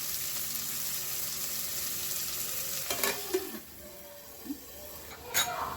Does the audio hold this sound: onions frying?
yes